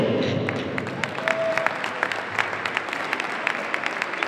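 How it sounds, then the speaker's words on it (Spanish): Audience applause at a full-contact kickboxing final medal ceremony, a steady wash of clapping with sharper individual claps standing out, after a brief announcer's voice at the start. "Un fuerte aplauso."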